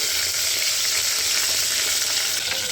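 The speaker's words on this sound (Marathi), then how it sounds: "सगळे वांगे काय झाले छानपैकी मस्त असे फ्राय झालेले" Eggplant fries in a pan over a village wood-fired clay stove, giving a steady, close sizzle with faint crackles throughout and no voices.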